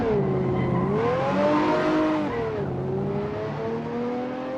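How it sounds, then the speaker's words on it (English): A 2009 BMW Z4 roadster with 330 horsepower driven hard on a track, its engine revving loudly up and down through the gears, close and steady, with the pitch rising and falling through shifts. "Mig is driving the 2009 BMW Z4 with 330 horsepower"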